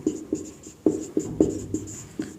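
Chalk or marker strokes on a board during a Class 10 science lecture on light: a series of short, rhythmic taps and scrapes, close and fairly quiet, with no talking over them.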